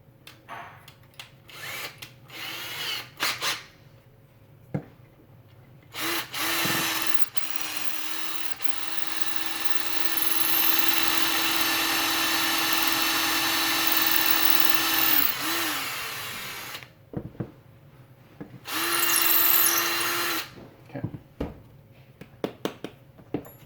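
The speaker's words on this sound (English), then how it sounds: "make this hole, let's try 3/16" An electric drill bores a 3/16 inch hole in a 1:4 scale Wolverine model build. It whirs in short bursts, then runs steadily and close for about ten seconds, with another brief run afterward.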